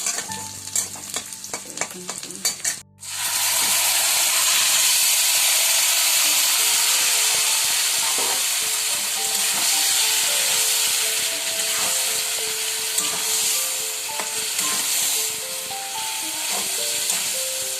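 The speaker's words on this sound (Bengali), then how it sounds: "তো দেখো পেঁয়াজও দিয়া দিলাম এখন পেঁয়াজটা একটু ব্রাউন করা হোক" Onions fry in a pan for a goat meat curry, a loud, steady sizzle with stirring scrapes running throughout after a brief pause near the start; no one speaks.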